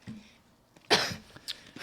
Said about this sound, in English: Stop coughing into the mic.